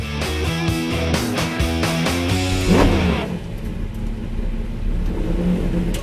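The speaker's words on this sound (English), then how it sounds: "we're with Joshua Davis here and his absolutely awesome Boss Mustang" A Ford Boss Mustang at a racetrack revs loudly and close by, its engine note climbing in repeated pulses before falling away into a steadier, quieter rumble.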